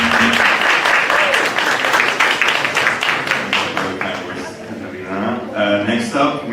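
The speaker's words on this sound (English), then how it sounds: "you have earned a big, big applause for all what you did here" Audience applause at a hackathon awards ceremony, a dense, loud wash of clapping that thins after about four seconds as a voice begins speaking over the last scattered claps.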